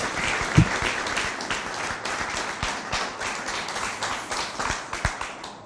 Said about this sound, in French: On l'applaudit très fort, s'il vous plaît.